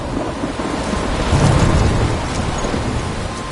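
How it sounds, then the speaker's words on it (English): Heavy rain and a thunderstorm in the video game Life is Strange: a dense, steady roar of rainfall with a deep rumble of thunder swelling in the middle, no voices. "I'm trapped in a storm?"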